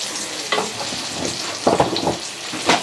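Oil frying while aglio olio pasta cooks, a loud close sizzle with bursts of stirring and spatula scrapes over a constant crackling hiss, and no talk.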